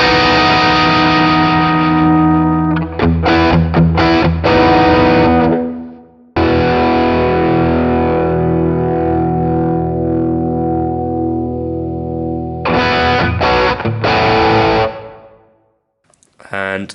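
Electric guitar played through a NUX amp with Strymon effects, giving sustained, effected chords with distortion and echo; loud, steady phrases with brief gaps and a sudden cutoff near the end.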